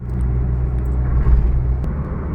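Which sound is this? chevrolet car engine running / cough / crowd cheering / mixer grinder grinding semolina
chevrolet car engine running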